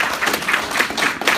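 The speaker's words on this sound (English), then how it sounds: "a big round of applause for our guest, Jeff Minter" A crowd at a gaming expo applauding steadily, dense overlapping claps filling the whole moment at a fairly loud level.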